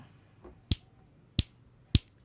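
Three crisp finger snaps made behind a FIFINE A8 microphone, evenly spaced about two-thirds of a second apart, sharp and isolated against a quiet room.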